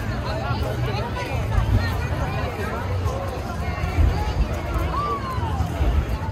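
Crowd babble at the Melbourne Firelight winter festival after a fire performance: a steady murmur of many voices with nearby chatter and footsteps, continuous and moderately loud throughout.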